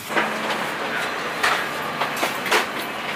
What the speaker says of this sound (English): So we just arrived on the train